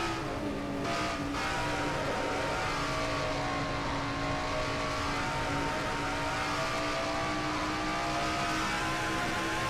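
A stock race car at about 180 mph in a NASCAR-style oval race, recorded onboard: a loud, steady high-revving engine drone that shifts slightly in pitch, with constant wind and mechanical roar and no talk.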